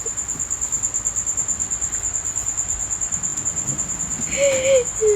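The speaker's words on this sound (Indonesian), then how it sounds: "Di sini nggak hujan, malah bunyi jangkrik." Crickets chirp in a steady, continuous high trill at a moderate distance, with a brief faint voice-like sound near the end.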